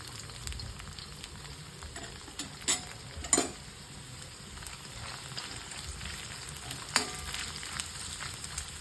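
Ginger fries in hot oil in an iron pan with a soft, continuous sizzle, broken by a few faint clinks and scrapes of a stirring utensil against the pan.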